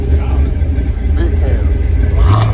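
Supercharged LS2-powered car at a car meet, a loud low rumble of the engine with a brief rev toward the end, voices talking over it.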